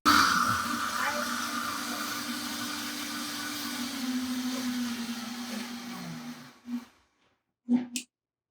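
A blender runs at high speed blending a three-ingredient vegan Alfredo sauce, a loud steady whir that holds for several seconds, then cuts off, followed by a couple of brief bumps.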